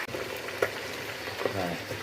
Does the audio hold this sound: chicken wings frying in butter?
yes